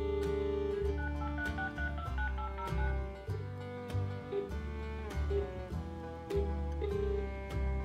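A Panasonic KX-TG3711SX cordless phone dials out with a quick sequence of about a dozen distinct keypad beeps, evenly paced and close, followed by line tones and no speech.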